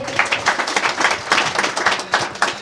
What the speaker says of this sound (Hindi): मैं आपको एक बार जोरदार ताली दीजिए